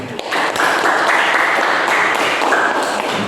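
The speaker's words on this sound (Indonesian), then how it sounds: "Tepuk tangan untuk" An audience at a learning session applauds, a steady, fairly loud burst of many hands clapping close by that holds throughout.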